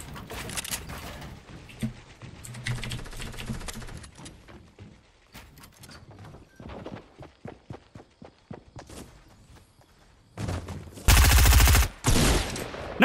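Rapid bursts of gunfire come from a Fortnite match, close and loud, in clustered volleys with short gaps. A heavy blast near the end sounds like an RPG, and there are faint mechanical clicks in between.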